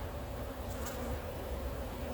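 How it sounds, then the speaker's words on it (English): Honeybees swarm around an opened backyard hive during a June inspection, making a dense, steady buzz that fills the whole stretch at close range and moderate loudness, with no talking over it. "all those bees are just going to add to this, and they're going to add to it fast"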